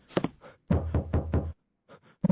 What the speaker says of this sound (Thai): มีเสียงเคาะประตู